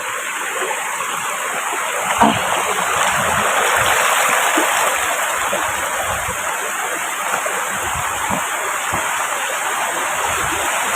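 A stream flows with a steady, close rushing and gurgling of water that carries on without a break, with an occasional louder splash.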